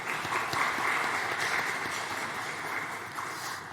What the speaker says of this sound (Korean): 우리 양육 2구역 식구와 또 수요 경배 찬양팀을 위해서 축복하고 격려하는 박수 하도록 합니다